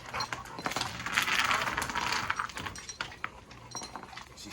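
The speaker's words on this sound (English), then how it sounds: "Got that thick boat chain on there." A thick boat chain rattles and clinks almost continuously, its bright metallic links clattering close by in busy bursts with a few sharper chinks, no voices over it.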